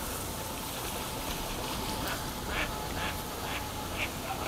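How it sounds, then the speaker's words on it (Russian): Startled ducks on a lake in autumn let out a series of short quacks in the middle distance, heard over a constant windy, rushing background. "Кто-то испугал уток."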